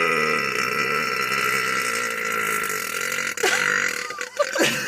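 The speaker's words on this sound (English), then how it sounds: "Why can't I stop burping?" A loud, drawn-out burp rumbles for several seconds, steady and close, then breaks into a few shorter ragged belches near the end, with no talking.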